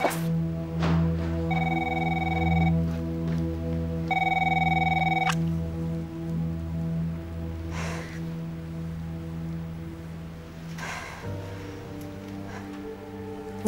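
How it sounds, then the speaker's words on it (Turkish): A telephone rings in two bursts of electronic bell tone, heard clearly over a low steady background hum, with no talking. "Telefon."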